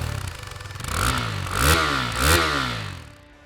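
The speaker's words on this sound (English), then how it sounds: "now it sounds more like a motorcycle than an auto rickshaw" A new 2022 KTM RC 390 motorcycle's exhaust, revving up twice in quick succession from a throaty idle, each rise climbing and falling back, loud and close with no talking.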